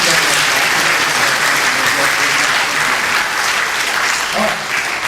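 Loud, sustained crowd applause follows a live magic stage act, dense clapping holding steady throughout, with a voice briefly audible near the end.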